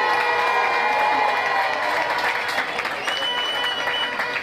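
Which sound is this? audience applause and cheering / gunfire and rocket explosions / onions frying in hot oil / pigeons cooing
audience applause and cheering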